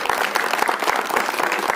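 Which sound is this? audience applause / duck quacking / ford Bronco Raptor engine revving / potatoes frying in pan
audience applause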